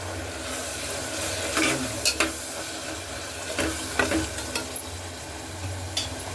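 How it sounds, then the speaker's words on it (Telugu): Sweet corn rice ingredients fry in a pan with a soft, steady sizzle, while a spoon stirs and scrapes against the metal in irregular bursts, close up and without speech. "కొద్దిసేపు అయితే వేగనిద్దాం మనము"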